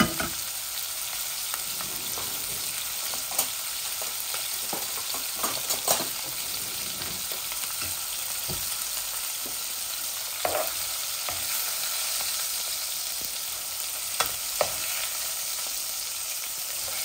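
Whole spices are tempered in hot oil for a rui fish curry, giving a steady, close crackling sizzle with scattered pops and occasional stirring clinks throughout, no voices.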